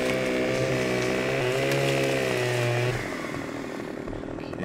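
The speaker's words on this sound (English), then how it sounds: "I can't sprint with the chainsaw running" A chainsaw in the video game Farming Simulator 17 drones loudly and steadily at close range, then drops to a lower idle near the end, with no talk.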